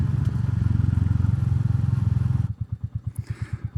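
A motorcycle engine held at about 3000 RPM hums steadily and close, then drops to a slow idle with distinct low, rhythmic thumps for the final second.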